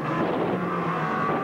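A race car engine from the 1987 Australian Touring Car Championship round at Calder drones steadily and loudly, with a carburetor hiccup while coming out of a corner, no voices over it.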